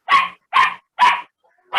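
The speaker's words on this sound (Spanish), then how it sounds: "¿Se escuchan bien los perritos?" Small dogs bark four times in a quick, evenly spaced series of sharp, loud yaps, close by with no other sound between them.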